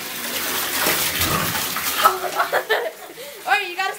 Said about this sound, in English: put your head underneath the faucet